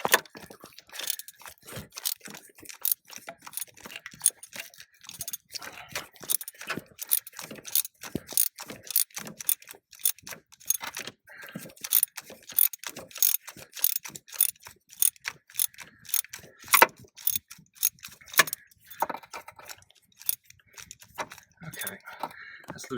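A hand ratchet loosening a spark plug on a Subaru EZ30 H6 engine: repeated quick clicking strokes in irregular bursts throughout, close and crisp, with brief pauses between turns.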